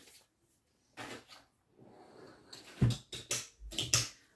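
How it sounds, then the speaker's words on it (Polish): Drawers with child-safety locks being pushed shut and latched in a home, a quiet rustle followed by a run of sharp close knocks and clicks, loud and near, with no talking. "pozamykam szuflady na blokady"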